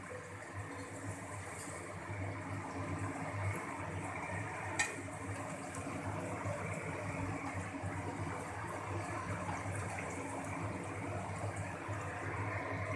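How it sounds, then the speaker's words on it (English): Onions frying in refined sunflower oil in a pan on the way to caramelizing, a steady soft sizzle that stays even and continuous throughout, with faint clinks and background hum and no talking. "The onion is on the way to get caramelized."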